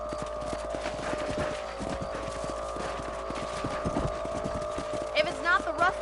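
Horse hooves clip-clop in a steady walking rhythm while riding in the video game Red Dead Redemption, set over a soft game ambience hum, with a brief faint whinny near the end.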